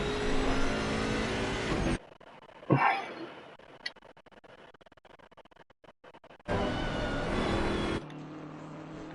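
A GT3 race car laps Brands Hatch in a PS4 racing game: a steady engine drone runs loud at the start and near the end, with a quiet gap between carrying faint clicks and a brief whoosh.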